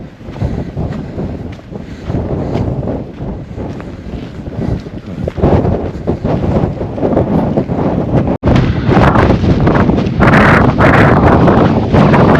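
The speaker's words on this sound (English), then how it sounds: "A little bit windy" Strong wind buffets across an open hilltop, a loud continuous roar with gusts that swell and thump against the microphone, with no other sounds standing out.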